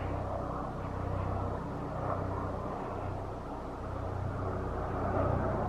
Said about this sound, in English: So that's the helicopter we use at the hospital I work at.